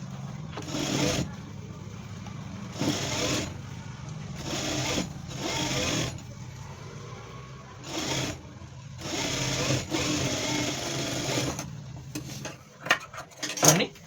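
A sewing machine stitching a blouse runs in repeated bursts of rapid mechanical whirring, stopping and starting several times, with small clicks and fabric handling between runs and a faint hum underneath.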